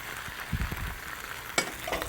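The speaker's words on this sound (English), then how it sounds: "Now we're going to saute it all up together" Brussels sprouts with garam masala and a spice paste sautéing in a pan, a steady soft sizzle with a few close stirring scrapes and a brief clink, no voice.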